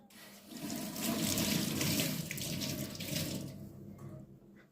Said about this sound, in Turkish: Şimdi tülümü ıslatıyorum arkadaşlar.